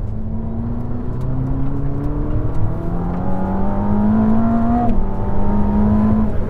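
A Ferrari SF90 Assetto Fiorano engine revs hard with ESC switched off, its tone climbing steadily through the gears toward an 8000 rpm peak, loud and close with brief dips at the shifts.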